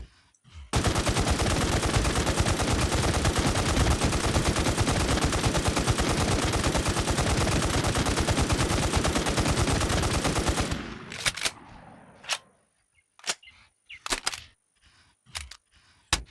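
Honey Badger gun in the game Infestation firing one long, unbroken automatic burst for about ten seconds, loud and close, then a handful of sharp single shots with silence between them.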